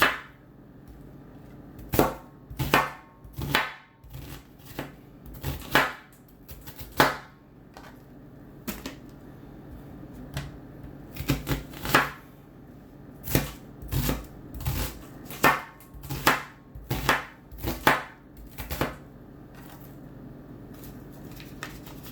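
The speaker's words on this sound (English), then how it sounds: "Cut the onions into chunks" Onions chopped into chunks on a cutting board, knife striking in irregular bursts of sharp close thuds with short pauses, no talking.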